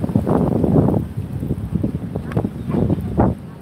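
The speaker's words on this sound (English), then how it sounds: "And the wind's really blowing" Gusty wind buffets a microphone outdoors in Laughlin, Nevada, producing loud, uneven rushing bursts that rise and fall over a few seconds.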